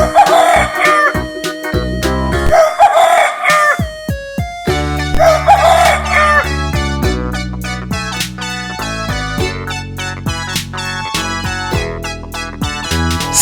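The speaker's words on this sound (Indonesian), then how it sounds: "Ayam jago." Cartoon rooster crowing in an animated farm-animal scene, several loud cock-a-doodle-doo calls in the first half followed by a bouncy musical backing with plucky notes.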